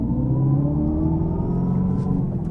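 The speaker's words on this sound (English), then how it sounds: "So the track mode is going to be your loudest Fretsonic exhaust mode." A 2024 Dodge Charger Daytona electric car plays its Fratzonic synthetic exhaust sound in track mode, a deep droning rumble that hums steadily and close with a slight engine-like growl.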